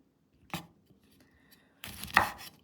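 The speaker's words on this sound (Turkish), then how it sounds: "Meyvelerimizi şöyle ikiye bölerek doğrayalım." A knife chops kumquats in half on a cutting board, twice: one sharp cut then a longer, louder slicing cut, with quiet pauses around them.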